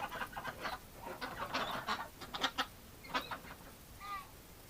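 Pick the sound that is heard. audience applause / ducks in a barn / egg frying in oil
ducks in a barn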